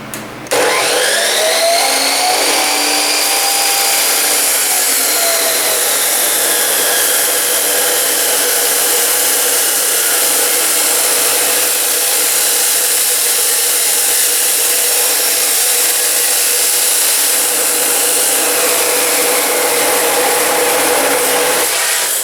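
Chop saw cutting through metal in a workshop, a loud, continuous high-pitched whine with rising and falling tones as the blade bites, sustained for about twenty seconds without speech.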